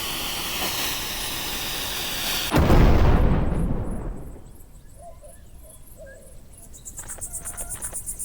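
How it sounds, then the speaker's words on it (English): A staged explosion goes off as a sudden loud, rumbling blast over a steady bed of chirping crickets, then fades over a couple of seconds until only the insects remain. "And an explosion will certainly liven up your article."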